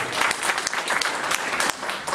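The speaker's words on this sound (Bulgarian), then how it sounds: "Ето, аплодисменти за музата на Елена Гогова." Audience applause on a Bulgarian morning show in Burgas, honouring the muse of Elena Gogova; a dense, steady round of clapping from a studio crowd lasting a couple of seconds.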